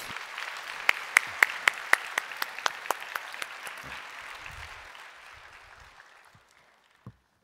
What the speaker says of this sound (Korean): 박수로 환영해 주시기를 바랍니다.